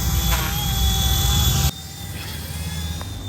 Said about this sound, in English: look at my little helicopter